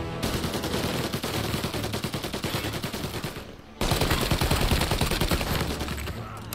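Dense, sustained automatic gunfire from a Mafia Definitive Edition shootout, loud and continuous with overlapping bursts, briefly dipping before surging again.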